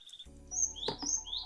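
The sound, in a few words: Javan pied starling (jalak suren) songbird chirping in its cage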